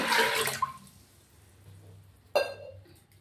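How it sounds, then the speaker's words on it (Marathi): A short gush of water from a small pot poured into a metal pressure cooker with chickpeas, followed by quiet and then a metallic clink. "त्याच्यामध्ये मी एक तांब्या भरून पाणी टाकून घेते"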